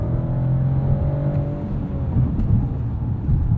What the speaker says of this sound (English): let's enjoy Sport Plus mode and open up this 3-liter inline six